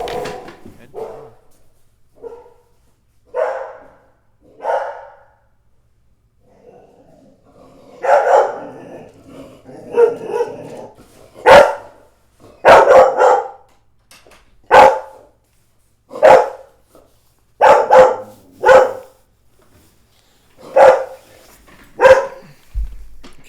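A pet dog barks repeatedly indoors, a dozen or so sharp, loud barks, at first scattered and then coming in quicker bursts with short quiet gaps between them.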